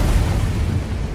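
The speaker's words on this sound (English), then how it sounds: "A stellar flare is an explosion of intense radiation that erupts from a star's outer layers." A deep, rumbling explosion effect standing in for a stellar flare roars on as a continuous, heavy boom with no speech.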